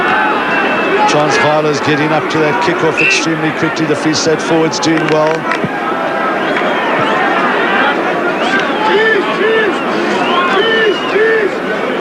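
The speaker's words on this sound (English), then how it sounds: "And the crowd have gone absolutely wild" A hostile crowd at the 1994 Currie Cup rugby final between Free State and Transvaal roars and cheers continuously under an excited commentator's voice, with whistles and shouts rising through the dense, steady din.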